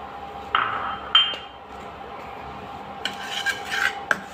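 Salt dry-roasting in a pan while being stirred: soft gritty scraping with sharp clinks of the utensil against the pan, in irregular bursts, close and fairly quiet.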